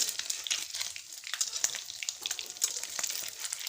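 Egg-dipped Thai khanom kheng steamed cake frying in hot oil, a dense steady sizzle with crackling pops throughout, close and fairly loud, no talking.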